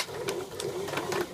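A sewing machine runs steadily while stitching a vent pleat along the 15 mm seam line at regular 2.5 stitch length, a soft continuous whir with faint rhythmic pulses, close and moderately quiet.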